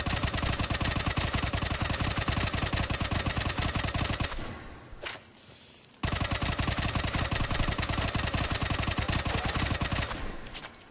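Tempest submachine gun from Mass Effect 3 fired from the hip in long rapid full-auto bursts, loud and dense, with a brief pause and a single shot before the sustained fire resumes.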